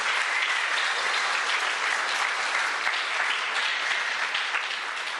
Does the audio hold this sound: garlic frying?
no